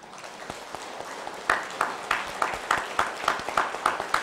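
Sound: audience clapping after a talk

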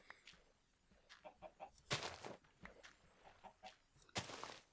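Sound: chickens clucking in the video game Minecraft

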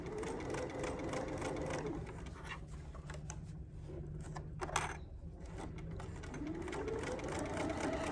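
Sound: sewing machine stitching along a seam

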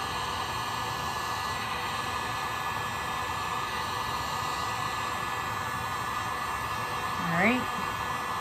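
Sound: heat gun heating resin art

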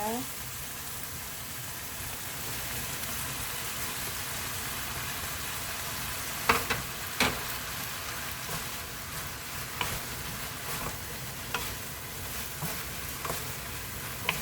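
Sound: stir-frying bean sprouts and pork with vegetables

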